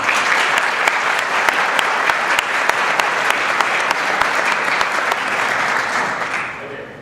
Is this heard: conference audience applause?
yes